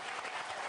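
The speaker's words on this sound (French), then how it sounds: "Applaudissez Dany encore." An audience applauds comedian Dany Boon in a live show setting, with steady, dense clapping filling the whole short burst and no voices over it.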